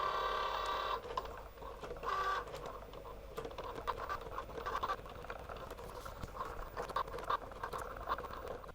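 A Cricut cutting machine draws an image with a pen while making stickers, its carriage producing a steady mechanical whir with quiet scratchy clicks and a brief louder motor burst early on.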